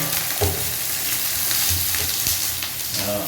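Sugar syrup for rasagulla boils hard in a pan, giving a loud, steady seething sizzle with a few soft pops and stirring clinks. Nobody speaks.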